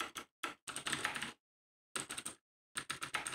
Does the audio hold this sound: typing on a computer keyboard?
yes